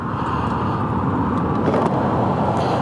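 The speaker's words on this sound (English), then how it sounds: "Welcome to Houston rush hour." Steady, dense Houston rush-hour highway traffic rumbling continuously, heard up close from a motorcycle, with no voices.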